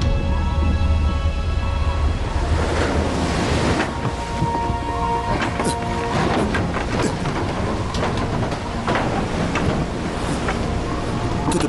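Heavy rain pours steadily throughout a dramatic thunderstorm sound effect as a cyclone builds, with rolling thunder crackling and rumbling over the dense, loud downpour.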